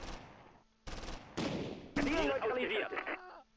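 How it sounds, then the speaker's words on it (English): Bursts of medium machine gun fire from the Close Combat III wartime strategy game, a few loud rattling volleys in quick succession at close range, with a voice talking through part of it. "Medium machine gun."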